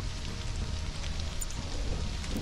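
Rain falls in the survival video game Stranded: Alien Dawn as a steady, dense patter that stays even and fairly loud throughout, with no voices.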